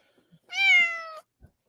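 A pet cat named Kit Kat gives a single clear, close meow lasting under a second, with near silence around it and no talk.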